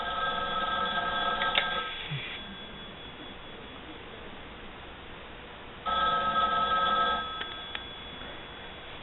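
A telephone rings in two bursts, each a couple of seconds of bright electronic trilling separated by a quiet pause of about three seconds, fairly close and heard alone with no talk.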